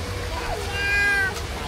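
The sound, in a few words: cat meowing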